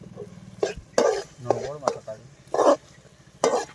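Tomato and green chilies fry in a pan for a pork dish, with a faint sizzle under repeated close scraping and stirring strokes at an uneven rhythm.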